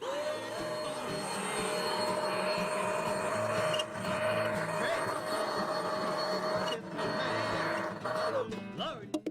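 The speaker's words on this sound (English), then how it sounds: "Just run this vacuum across it." Vacuum cleaner running over the door of a wood pellet stove, a loud steady whine close by with brief dips as the nozzle moves, cutting off at the end.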